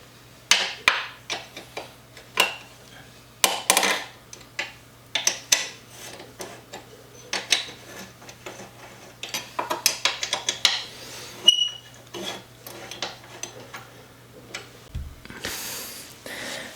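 Taps and small metallic knocks while loosening and freeing the fork parts of a Celestron CPC 1100 Schmidt-Cassegrain alt-az telescope, scattered irregular clicks and raps at close range with a steady low hum underneath and no talk.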